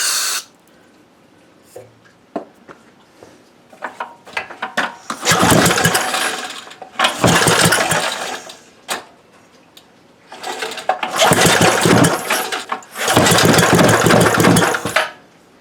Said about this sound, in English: Alright, so we're going to do a test fire just to see what it does before I put gas in it.